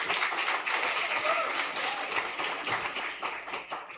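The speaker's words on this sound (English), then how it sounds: "Can we get an applause for that?" A crowd at an enterprise development programme launch applauds a grand prize announcement, with steady clapping from many hands filling the room, fairly loud and continuous with a faint murmur of voices mixed in.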